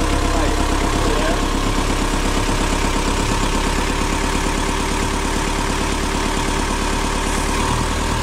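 A Yamaha engine on a Trinidad 37 sailboat runs steadily and smoothly throughout, a loud continuous low hum with an even idle rhythm and no pauses.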